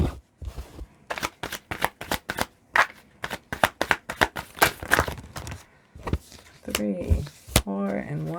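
Tarot cards are shuffled and then dealt one at a time in a string of crisp, close slaps and riffles, with a person talking between the card sounds.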